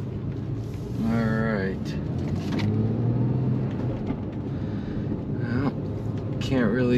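A Porsche 911 Carrera S 991.2 with a fresh Softronic ECU tune accelerates hard, its engine rising in pitch through the gears under cabin rumble while someone talks at intervals.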